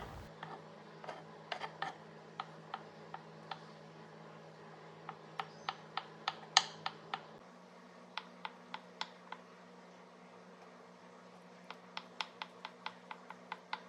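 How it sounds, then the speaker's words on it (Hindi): A knife chops boiled egg whites into chunks on a board, producing quiet, sharp taps in uneven runs of quick strokes with short pauses, over a faint steady hum. "तो फटाफट से सारे एग वाइट्स के पीसेस को हम काट करके चंक्स बना करके रेडी रख लेते हैं।"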